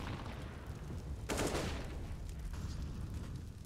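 Counter-Strike gunfire on the Inferno map during a professional esports match comes as a burst of sharp rapid shots over a dense, noisy background of game sound.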